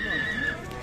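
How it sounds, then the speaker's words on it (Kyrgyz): A horse at a livestock market gives a short, wavering whinny near the listener amid market noise and voices. "Мына атты байкап көрүңүздөр."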